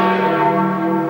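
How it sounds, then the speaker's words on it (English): Church bells of St. Peter's Basilica ring out steadily across St. Peter's Square, a full, sustained peal with rich overlapping tones and no pause. "The bells rang out across St. Peter's Square, across the city"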